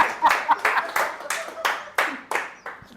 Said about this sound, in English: Can you have a big round of applause for myself?